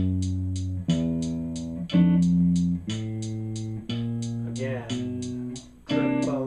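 Walking bass line with chords on guitar during a lesson, played as steady plucked notes about once per second, with each new chord ringing over the moving bass; no talking.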